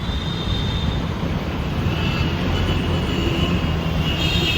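A truck speeds along a rain-soaked road beside another car, giving a steady loud roar of engine and tyre rumble that fills the whole stretch without a break.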